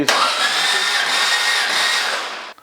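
A VW engine with its spark plugs removed cranks over on a dyno in one continuous, loud, steady starter whir that stops abruptly at the end, with no voices.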